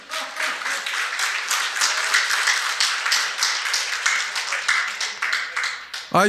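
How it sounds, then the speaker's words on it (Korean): An audience of older adults at a lecture claps continuously, a loud, dense patter of many hands that holds steady for several seconds before breaking off abruptly. "안 살 것 같으면 박수 부탁합니다."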